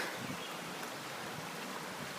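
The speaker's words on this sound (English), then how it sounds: "A neat little water crossing right here." A small stream gurgles steadily at a water crossing on a hiking trail on Mount Cabot in New Hampshire, a faint, continuous rushing wash with some wind noise.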